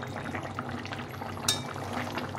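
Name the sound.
fish curry boiling in a pot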